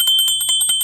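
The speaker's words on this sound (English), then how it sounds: "but here's a little bell." A small handheld bell rings rapidly and repeatedly, giving bright, sustained, high-pitched metallic tones that carry through a quick run of strikes at close range.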